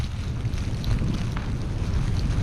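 Wind buffets a GoPro on a snowy beach during a blizzard, a steady low roaring rumble with gusty swells, loud and continuous, no voices.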